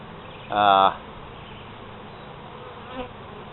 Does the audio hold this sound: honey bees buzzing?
yes